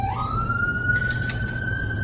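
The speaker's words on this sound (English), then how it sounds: "just gonna wait for this last siren to go by" An emergency vehicle siren passes outside, its wail rising sharply at the start and then holding a long, steady tone over a low background rumble.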